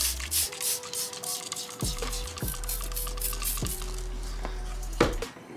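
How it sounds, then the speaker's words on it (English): Bursts of ArmorAll Extreme wheel cleaner hiss from a trigger spray bottle onto a car wheel, several quick sprays in a row set against a low steady hum, close and moderately loud. "So I'm just gonna spray the top"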